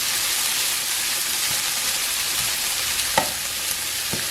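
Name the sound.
diced Canadian bacon cooking in a pan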